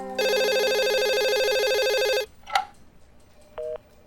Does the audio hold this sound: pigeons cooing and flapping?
no